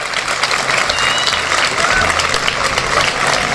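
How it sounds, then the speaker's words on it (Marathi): An audience at a career guidance talk breaks into steady, sustained applause. The dense clapping runs at an even level through the whole stretch. "त्यामुळे टाळ्या वाजवा म्हटलं की सुट्टी द्यायची, वाजवायच्या."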